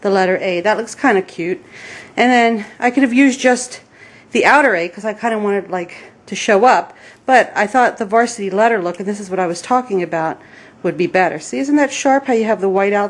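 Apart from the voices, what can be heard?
No everyday noise stands out behind the speech.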